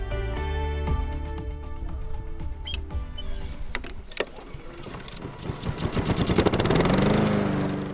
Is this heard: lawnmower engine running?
yes